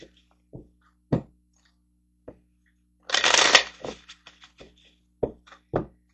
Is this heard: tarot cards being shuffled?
yes